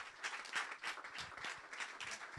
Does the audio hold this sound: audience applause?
yes